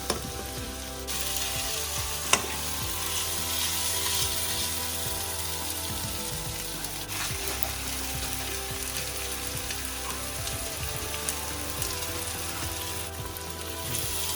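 Daal sizzles and fries steadily in a pan, a dense continuous crackle close up with occasional louder pops and no speech.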